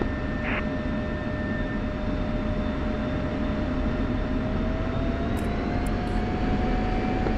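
An F-16 jet engine runs with a steady, loud roar and a sustained whine from inside the aircraft, unbroken for the whole stretch, with a few faint high beeps near the end.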